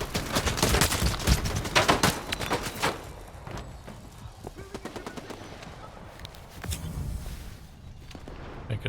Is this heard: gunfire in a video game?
yes